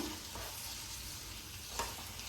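Chana dal sizzling in the same pan used for kayi bajji, a steady close frying hiss with a faint stir or scrape near the end, no voices.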